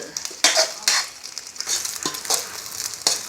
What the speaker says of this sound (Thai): ทอดไข่ ทอดไข่กินตามแตง น้องเออ